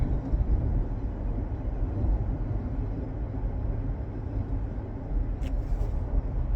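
Road traffic heard from inside a car, a steady low rumble of engine and tyre noise with no talk.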